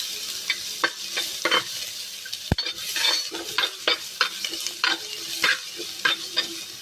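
Onion fries in oil in a pan for a bolanjiri fish curry, with a close, steady sizzle broken by repeated scraping stirs of a spoon and one sharp clack of utensil on pan.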